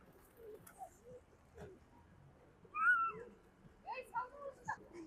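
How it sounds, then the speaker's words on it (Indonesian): Pigeons gather and coo in Panfilov Park in Almaty, a few soft calls rising close by among faint bird chatter and outdoor ambience, with a person speaking over them. "Di dalam Panfilov Parknya Kayak ada satu tempat di mana burung-burungnya tuh pada berkumpul."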